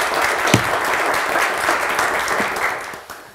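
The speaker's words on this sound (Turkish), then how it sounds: "Bize bir alkış yok mu?" Steady applause from a television word-game show studio audience, a continuous wash of clapping at close range lasting a few seconds and easing slightly toward the end.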